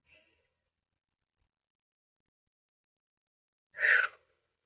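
A single deep breath during a guided tapping meditation, a soft breathy sound at the start followed after silence by a louder, close exhale.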